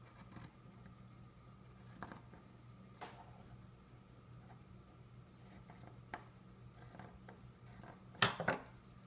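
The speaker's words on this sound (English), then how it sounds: "I'm cutting along the fold to separate out the two." Scissors slice through cotton fabric strips for a handmade hospital mask, giving quiet, close snips and soft rustling at irregular intervals over a faint background hum, with a louder cluster of cuts near the end.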